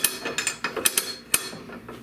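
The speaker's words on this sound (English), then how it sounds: "So you've just got this nice little ratchet." Ratchet and pawl on an antique Union Loom Works loom, clicking in a quick uneven series of sharp close ticks, about a dozen over two seconds, with no talking.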